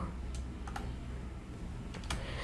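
Keys tapped on a computer keyboard, a few sparse, quiet clicks spread over a couple of seconds against a steady low background hum, with no talking.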